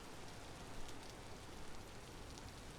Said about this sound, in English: Is that why it's constantly raining?